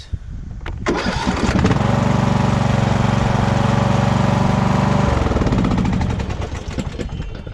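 A repaired lawn mower tractor engine cranks, catches and runs at a loud, steady, rattling idle close by, then winds down toward the end.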